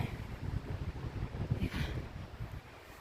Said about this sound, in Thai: เพื่อนๆได้ยินเสียงลมไหมคะ ลมแรงมากค่ะ